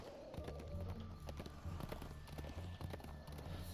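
Rhythmic hoofbeats from a horse ridden at a steady gait in a video game, the clip-clop pattern repeating evenly and fairly close, with faint ambient game sound beneath.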